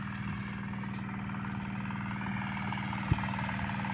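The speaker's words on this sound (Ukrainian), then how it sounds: "А тут Марчик газує." A Zubr 8 walk-behind tractor engine chugs steadily at close range during break-in, an even, throbbing idle broken once by a brief knock.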